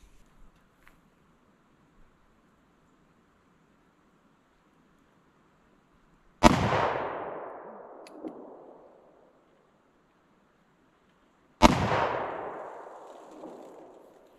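Two sharp, loud gunshots from a Bond Arms Rough and Rowdy pistol firing Winchester Super X 255-grain lead round-nose rounds, spaced about five seconds apart, each cracking and then ringing away in a decaying outdoor echo, with no talk.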